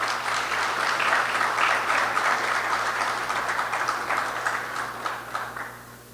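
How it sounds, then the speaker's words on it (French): An audience at an international finance summit on Haitian banking claps in a dense, steady burst of applause that holds strong for several seconds before thinning and fading out, with no talk over it. "Sous vos applaudissements,"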